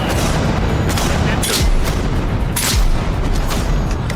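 Shotgun blasts in a video game boom out as several loud, separated shots over a dense, noisy game mix, with a couple of sharp reports standing out.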